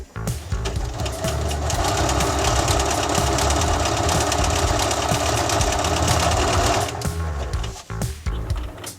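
A Bernina sewing machine runs steadily while stitching a thick denim jeans hem, a loud, continuous motor whir with rapid needle clatter for about seven seconds before stopping, then a few short bursts and handling noises.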